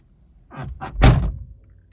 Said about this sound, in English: Right, let's slam this door.